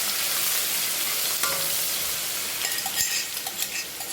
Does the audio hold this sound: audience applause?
no